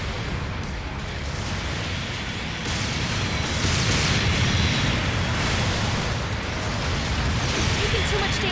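Mobile suits blow up in the Gundam Battle Operation 2 video game, a dense, continuous roar of blasts and rumbling impacts that swells midway and stays loud throughout, with no clear gaps between them.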